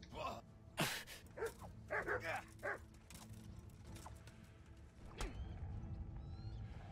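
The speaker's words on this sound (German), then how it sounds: "Och, der Hund ist ja nervig." A dog in the medieval game Kingdom Come barks in a few sharp bursts, one alone and then a quick cluster, over faint background noise from horse riding.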